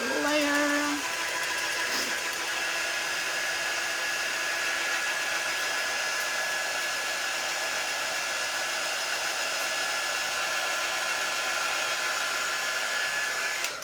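Hair dryer drying a layer of paint on a botanical craft piece, a loud steady blowing whine running close and unbroken throughout.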